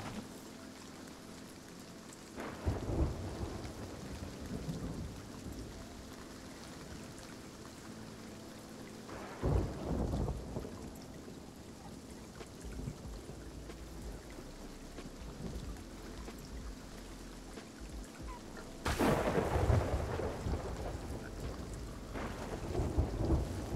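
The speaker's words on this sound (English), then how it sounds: "Storm is making it kinda hard to hear." Heavy rain pours without a break in a video game storm, with three deep thunder rumbles rolling through at intervals, the last the loudest. Nobody speaks.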